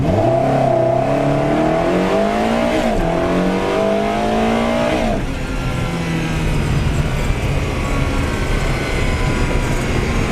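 A powerful Ferrari engine, in a repaired salvage car, revs hard and accelerates, its pitch rising through gear changes before settling into a loud, steady roar.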